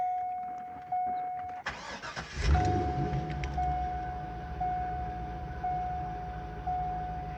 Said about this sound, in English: You'll hear how beautiful this car sounds too